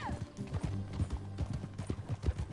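A horse's hooves clip-clop at a quick trot in the Red Dead Redemption 2 video game, with a faint whinny and some quiet background sound under the rhythmic hoofbeats.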